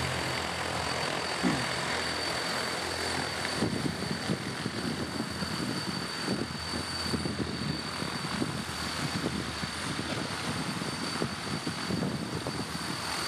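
A rotor-lift prototype runs a tethered hover test on a vertical rail, its whirring rotor drone steady and fairly close, holding constant with a slight rise in intensity partway through and no talk over it.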